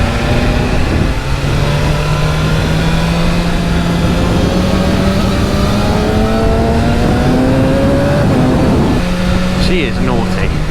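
A 210HP BMW S1000RR with a shift cam engine accelerates through rising gears, its pitch sweeping upward with a drop at each shift, over steady wind rush.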